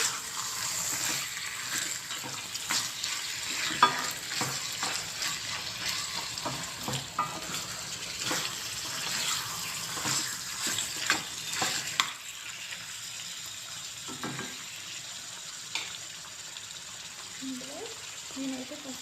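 Pieces of chicken sizzle and crackle in a hot pan, with bursts of stirring and scraping; the sizzling quiets toward the end.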